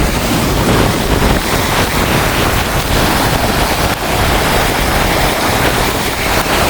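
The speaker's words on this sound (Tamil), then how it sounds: "காற்றை பாருங்க பயங்கரமான காற்றடிக்குது" Strong storm wind at Keerimalai, Sri Lanka, roars steadily and loudly across the microphone, a constant broadband rush with gusty buffeting and no voices.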